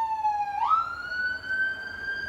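An ambulance siren wails loud and steady, its tone sliding upward as it passes close by, with faint road noise underneath.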